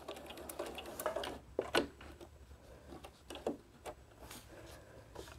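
A sewing machine runs a quarter-inch seam through fabric in short bursts of rapid stitching, quiet and close, separated by pauses with small clicks and handling sounds.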